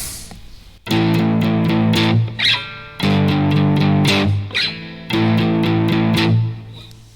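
Loud, heavily distorted electric guitar playing sustained chords in three bursts, each ringing out and cutting off, with thick fuzzy overdriven tone.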